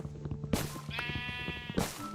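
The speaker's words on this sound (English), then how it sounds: "Oh my goodness, more sheep." Sheep in Minecraft bleat twice in short, wavering calls, clear and close, with soft game background sounds in between.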